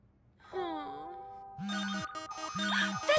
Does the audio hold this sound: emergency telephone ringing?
yes